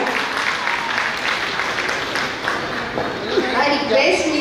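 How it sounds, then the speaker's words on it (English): An audience at a school gathering claps for a nursery child performer, sustained broadband clapping heard fairly close with voices talking over it throughout. "Give a big round of applause to her."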